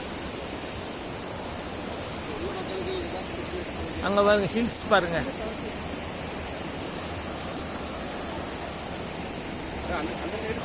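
A river rushes down from the Kolli hills through a forest area, a steady broadband roar of water throughout, with a voice speaking briefly over it midway.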